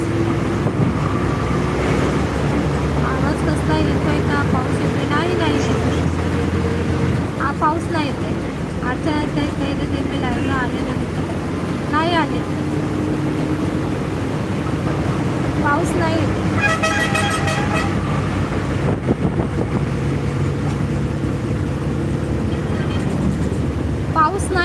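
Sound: road traffic and vehicle horns

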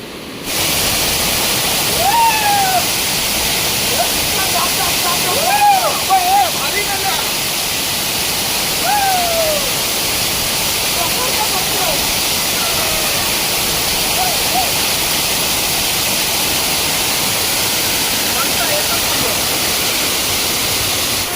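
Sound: waterfall

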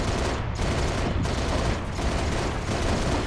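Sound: gunfire in Halo Reach video game

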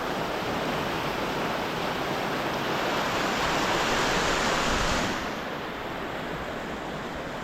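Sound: river water flowing after rain

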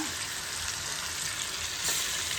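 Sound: kalinga mural fish frying in hot oil

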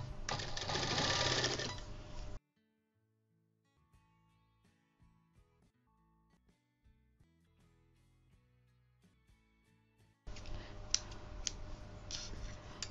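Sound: sewing machine stitching a belt onto a baby frock

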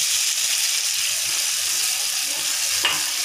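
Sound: water poured into cooking chole masala

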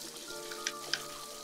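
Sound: rain in the video game My Time at Portia

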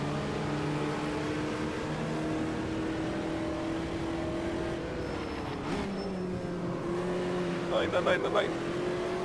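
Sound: Beetle race car engine revving in Automobilista 2 video game

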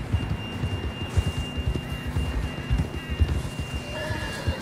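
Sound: horse galloping in Red Dead Redemption 2 video game

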